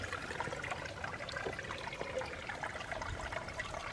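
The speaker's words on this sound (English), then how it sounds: "you can see how much water's flowing out of the earth here." Spring water flows out of the earth in a steady, soft trickling rush, a continuous faint wash of water with no voices.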